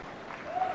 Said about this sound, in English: Again, a round of applause for these